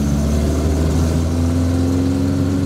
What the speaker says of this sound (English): So the car's cold, so I'm just going to warm the car up properly.